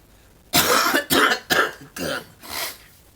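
A run of five harsh, raspy coughs in quick succession, close and loud, each burst fading a little as the fit winds down.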